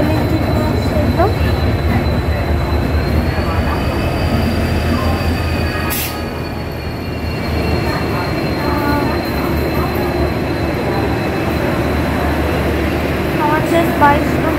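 A diesel-hauled train, the Howrah–Mysuru Weekly Express, stands at a station platform. It gives a loud, continuous low rumble with faint high squealing tones and a brief sharp burst partway through.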